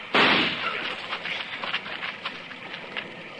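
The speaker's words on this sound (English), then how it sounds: "Roll away as soon as I fire." A single loud gunshot crack opens a radio drama Western scene, followed by a decaying rumble and faint scattered rustling, with no voices.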